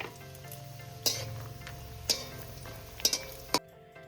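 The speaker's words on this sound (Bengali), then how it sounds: "তেল গরম হয়ে গেছে, বড়িগুলো আমি ভেজে তুলে নিচ্ছি" Lentil dumplings (bori) frying in hot mustard oil for a bean curry give a continuous close sizzle, punctuated by about four sharp clinks of a utensil against the pan.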